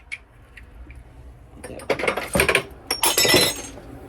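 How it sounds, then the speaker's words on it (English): A small glass shade falls and breaks on a shelf during decluttering: a close, sudden clattering crash followed by bright tinkling shards that settle over about two seconds. "I just broke that little shade."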